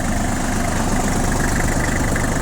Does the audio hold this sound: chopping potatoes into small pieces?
no